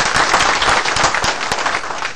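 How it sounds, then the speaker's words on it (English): Town hall audience breaks into a round of applause for a state party figure, dense hand clapping filling the room loudly and steadily from start to finish. "Round of applause."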